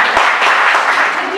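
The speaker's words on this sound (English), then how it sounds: "A big round of applause" Audience applause at a college social awareness programme on traffic hazards, a brief, steady patter of many hands clapping throughout.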